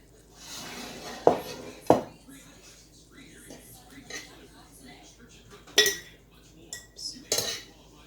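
A metal spoon scrapes and clinks against a pot while beef is scooped in for beef and barley soup, with several sharp, close metallic knocks among softer rustling and a voice talking faintly at times.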